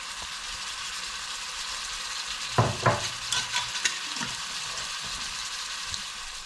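Shrimp sauteing in a pan with a steady hiss of frying, broken midway by a cluster of sharp scrapes and clinks as a spatula stirs them, then settling back to even sizzling.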